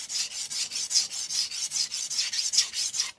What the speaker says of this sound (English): I'm mostly just kind of guiding the knife and making sure it stays on the stone.